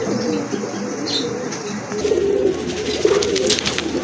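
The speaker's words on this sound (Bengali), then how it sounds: "এটা হচ্ছে গোপালগঞ্জের বড় পায়রা কবুতর মাশাআল্লাহ" Big-sized Gopalganj boro payra pigeons coo in a loft, low throaty rolling calls repeating close to the listener, with brief wing flaps and light chirps around them.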